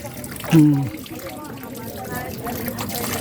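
Water runs and trickles steadily from a tap in the background for hand washing at a seaside restaurant, while a person's voice briefly sounds near the start.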